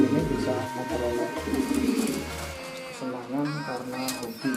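Pigeons in a home loft give repeated low, throaty coos, close and steady, beneath someone speaking continuously.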